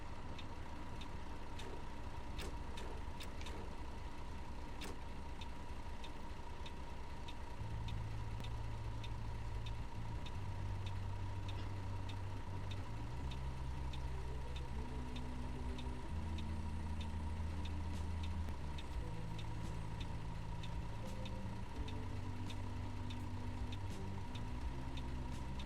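A coach bus engine in Fernbus Simulator runs continuously, with an irregular stepped low drone rising and falling as it accelerates, plus a steady hum and faint repeated ticking over the whole stretch.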